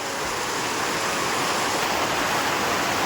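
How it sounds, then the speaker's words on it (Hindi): Heavy rain pours down in a village in Arunachal Pradesh, northeast India, a dense, steady hiss that stays loud and even throughout with no pauses. "अभी तो बहुत ही जोरदार बारिश आ गया"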